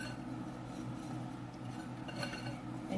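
Steady scraping and clinking of a utensil stirring a vegan pie crust mixture of flour and coconut oil in a bowl, continuous and close with no talking.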